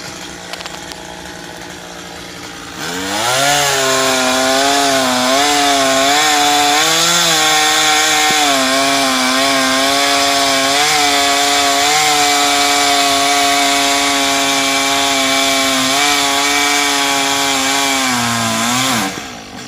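A chainsaw cutting into a coconut tree in the rain, its engine snarling up loud after a quiet start and then holding a steady, wavering whine through the cut before dropping off at the end.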